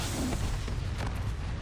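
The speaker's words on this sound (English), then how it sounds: "So we will just fire the cannon" World of Warcraft cannon firing, a single heavy booming blast with a rumbling low tail, loud and close, lasting barely more than a second.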